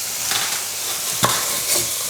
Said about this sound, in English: Give that a quick mix.